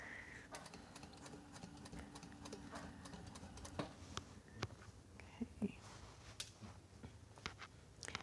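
A sewing machine stitches stretchy sequin fabric held taut, giving a quiet, close rapid mechanical whir with irregular clicks and taps throughout.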